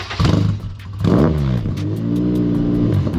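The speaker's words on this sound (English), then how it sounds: "It sounds like a race car." Modified Honda Civic hatchback engine revs hard and raw like a race car, the pitch climbing and falling through loud, close acceleration sweeps with a rasping exhaust note.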